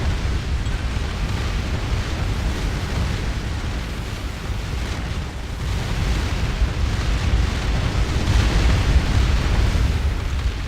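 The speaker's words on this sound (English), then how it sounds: "We are shooting down a load of these missiles." Point defense shooting down missiles in the space strategy game Distant Worlds Universe, heard as a dense, rumbling roar of overlapping blasts and bursts, loud and continuous with a swell toward the end, no talking.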